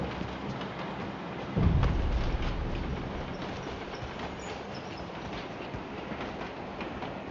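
A train moving in the battle-royale game PUBG gives a steady, dense rumble throughout, with a heavier low thump near the start that then settles back into continuous noise, with no voices.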